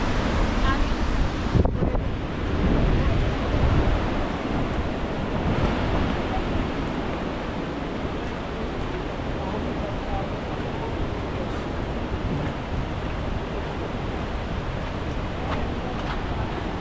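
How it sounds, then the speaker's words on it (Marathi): Vajrai waterfall in Satara roars as a steady, broad rushing wash of falling water, heard up close and continuous throughout, with wind buffeting the microphone during the first few seconds. "इथून बघू शकता पूर्ण धबधबा"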